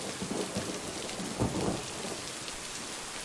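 Rain falls steadily outdoors by a lake while low rumbles of thunder roll through twice, soft and distant, with no voices present.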